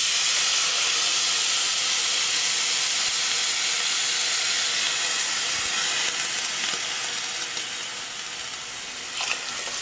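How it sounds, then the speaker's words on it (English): Water poured into a hot pot of lentils and rice sizzles loudly and steadily with a broad steamy hiss throughout, tapering slightly near the end. "It's gonna sizzle when I add the first cup."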